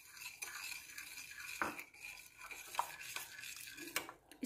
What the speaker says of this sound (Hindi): इसको मिक्स कर लेंगे अच्छे से।